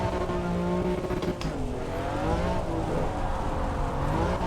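Racing car spinning its tyres in the Assetto Corsa Evo video game, a steady roar of engine and rubber with wavering pitch and a brief squeal, loud and continuous with no talk.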